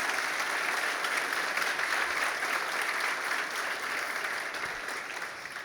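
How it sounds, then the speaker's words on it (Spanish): A church congregation claps steadily in sustained applause during a sermon, dense and even throughout, tapering off slightly toward the end. "Dele un aplauso al Señor."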